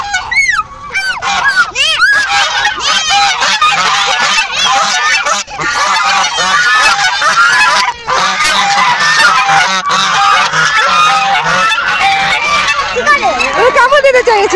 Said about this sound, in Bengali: এই রাজা হাঁস কামড় দিবে।